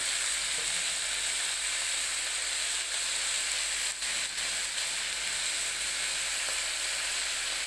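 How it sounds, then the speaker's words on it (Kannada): Field beans and fenugreek leaves frying in a pan give a steady, dense hiss of sizzling oil, constant and close, with a couple of faint stirring touches and no speech. "ಸೊಗಡು ವಾಸನೆ ಹೋಗೋ ಹಾಗೆ ಒಂದು 2-3 ನಿಮಿಷ ಇದನ್ನು ಫ್ರೈ ಮಾಡ್ಕೋತೀನಿ."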